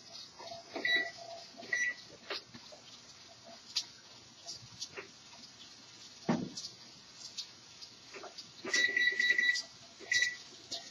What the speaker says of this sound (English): So now we set the timer.